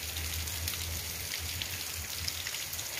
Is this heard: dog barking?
no